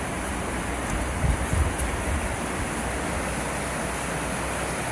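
Mountain river in a North Ossetian gorge in the Caucasus rushing steadily, a broad unbroken roar of water that stays constant and fairly loud with no voices.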